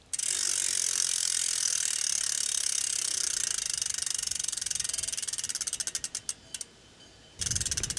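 A bicycle wheel spins freely while being trued by hand, its freehub ratchet buzzing in a fast continuous clicking that slows into separate ticks as the wheel coasts down, then briefly resumes with another spin.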